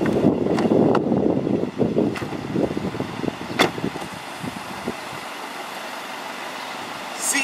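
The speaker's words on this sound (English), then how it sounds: "I want to see how good the Cherokee could jump some tracks." Jeep Cherokee driven hard over railroad tracks, with loud rushing road and wind noise, several sharp thumps and jolts as the wheels hit the rails, then a steadier rumble.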